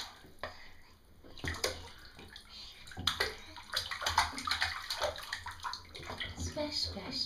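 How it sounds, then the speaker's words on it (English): Water splashes and sloshes in a big bathtub as a small child plays, irregular bursts of slapping and churning close by, with a voice and an adult's voice mixed in. "Splash, splash, splash."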